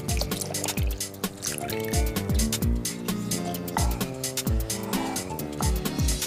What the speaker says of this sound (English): And then we're also gonna add 2 cups of milk.